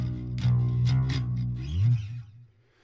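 Guitar played through a Spark amp with added effects, a few processed, chorused and slightly distorted notes and a short sliding phrase, close and alone, trailing off at the end.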